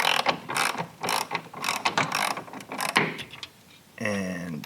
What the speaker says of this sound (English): So now I'm just going to lower the motor down.